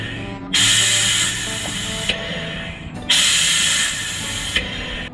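Brake fluid sucked through the brake lines while bleeding the brake master on a Land Rover 6x6 Perentie, two long loud hissing pulls of suction separated by a brief pause.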